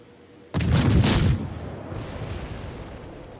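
Naval shell fire from a Tallinn cruiser in World of Warships: a sudden loud, booming salvo blast that rumbles for under a second, then fades into a lingering low battle din, with no talk.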